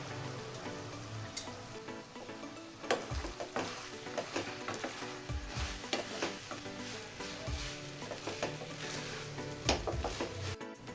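About two cups of cooked rice are stirred and fried in a hot pan for Indian mushroom fried rice. Close sizzling carries on throughout, broken by repeated scraping and clinking of a spatula against the pan. No one speaks.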